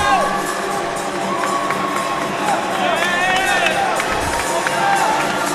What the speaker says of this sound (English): I think this is the loudest I've heard the crowd so far.